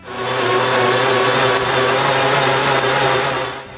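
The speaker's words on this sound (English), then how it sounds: "Next, I use a Forstner bit to start the hole for the latch." A power drill with a Forstner bit bores the latch hole in an interior wooden door, a loud steady whirring grind held close for several seconds with no speech.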